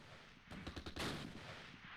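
Gunfire and mortar fire in the WWII strategy game Close Combat Last Stand Arnhem, Eindhoven battle: a quick cluster of sharp shots followed by a heavier blast, then a sustained rumbling wash of battle noise with no talking.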